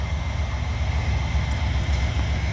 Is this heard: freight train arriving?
yes